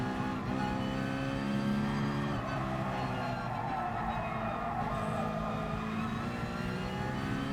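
A race car engine in the GT Sport video game drones steadily at Willow Springs, a continuous harmonic whine that rises and falls slightly as the car accelerates, loud and unbroken throughout.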